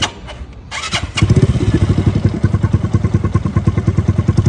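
Motorcycle engine starting with a few thumps, then settling into a loud, steady rhythmic idle and rev close by during a beginner riding lesson, with no talk over it.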